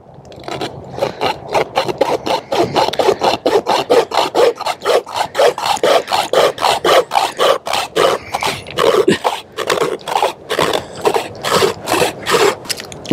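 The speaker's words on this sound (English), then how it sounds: "Let me see if I can get a piece of wood and see if this thing actually saws it." A survival knife's wire saw is pulled back and forth through a piece of wood, making a steady run of loud, rasping strokes in quick rhythm, close up, with no talking.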